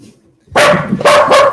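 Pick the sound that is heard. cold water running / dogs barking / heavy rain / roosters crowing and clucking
dogs barking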